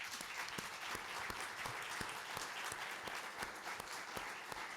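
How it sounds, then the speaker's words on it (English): An audience at a conference on governance and security in the Middle East and North Africa applauds a panel, steady dense clapping from many hands throughout, somewhat distant and even, with no talk over it. "please join me in applauding them"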